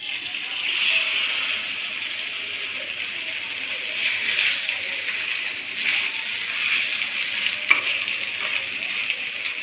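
Chicken pieces go into hot shallow oil in a pan, producing a loud, continuous crackling sizzle that swells as they are added, with faint speech underneath.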